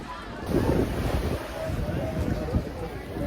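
Sea waves wash onto the beach at Rameswaram at night with wind blowing across the microphone, a steady, close rumble of surf and gusts.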